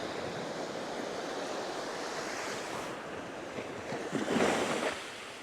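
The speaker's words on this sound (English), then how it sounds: "That water is coming in." Incoming sea water washes up on the sand at a beach at twilight, a steady broadband rush of surf with wind on the microphone and a louder wave swelling near the end.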